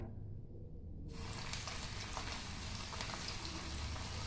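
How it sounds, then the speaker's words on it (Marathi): White bread pieces frying in hot oil for a crunchy bread bhel snack, a steady close hiss and crackle that jumps louder after a quiet first second and then holds. "सर्व तळून घेऊया ब्रेडचे स्लाइस जे पीसेस केलेले"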